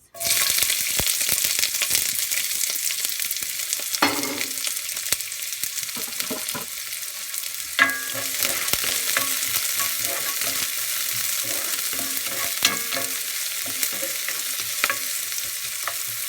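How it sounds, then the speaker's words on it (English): Onions dropped into very hot oil burst into loud, close sizzling that settles into a steady frying crackle with occasional stirring clinks, no voices. "my oil is ready. It's really hot. So I'm gonna add my onions."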